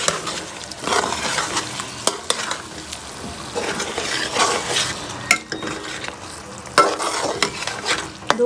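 Kachnar buds being stir-fried in a pan in a Pakistani kitchen: a steady close sizzle with repeated scraping and stirring strokes of a spoon against the pan, no voices.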